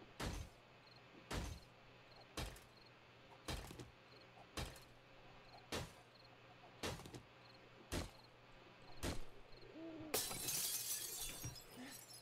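Glass panes shatter again and again in the video game 7 Days to Die, sharp crashes repeating about every second over a low steady hum, ending in a longer rush of breaking.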